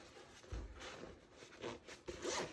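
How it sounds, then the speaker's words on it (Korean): A zipper is pulled up on a handmade padded vest, several quick ratcheting zips in short bursts, close and fairly quiet with no talking. "지퍼 잠궈 보겠습니다."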